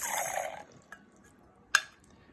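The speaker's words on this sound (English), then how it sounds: "I'm gonna just pour the gravel into the cup" Gravel poured into a cup makes a dense, bright rattling pour for about half a second. Two sharp, isolated clicks follow as a few stones settle.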